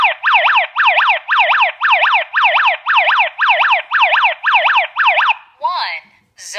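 ENKLOV wireless security alarm system siren blaring a rapid, repeating warbling wail in even pulses, close and loud, breaking into a few irregular chirps near the end.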